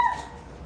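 A small puppy gives a single short high whimpering yip, close and brief, trailing off into faint background noise.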